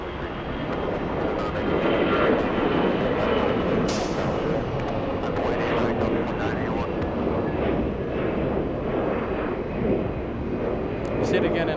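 Delta flight 2388 takes off from runway 8 right at Hartsfield-Jackson Atlanta airport, its jet engines making a broad sustained roar that stays loud and steady throughout.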